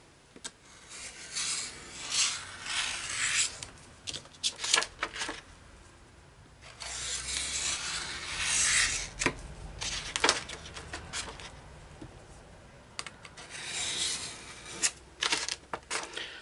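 A craft knife blade draws along paper while making a pop-up album, giving repeated soft scraping and rasping strokes in bursts with short pauses, close and fairly faint, with no talk.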